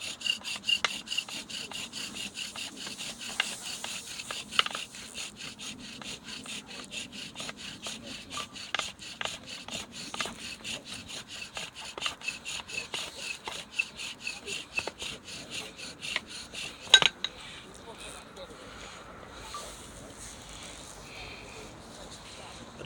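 A bow drill spindle rasps against a wooden board in a fast back-and-forth rhythm of scratchy strokes, fairly close and moderately loud, ending abruptly after about seventeen seconds as faint ambient noise remains.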